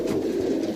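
Pigeons coo close by in a low, soft, continuous throaty murmur, with no talk over it.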